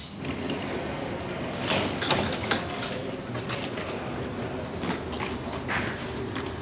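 Steady rumble and rattle of an Edinburgh tram running between the airport and the city, with soft clunks and a constant low drone heard from inside the car.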